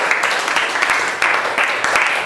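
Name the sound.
class applauding a classmate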